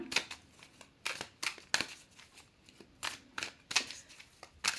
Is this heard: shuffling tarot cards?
yes